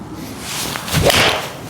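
A single crisp strike of a golf iron on a ball outdoors, hit thin, followed by a soft whoosh and faint ambient noise.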